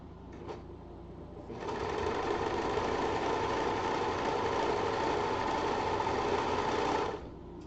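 A serger sewing machine runs in a steady, fast mechanical whir for about five seconds after a brief quiet start, fairly close and moderately loud, then stops, with no talking.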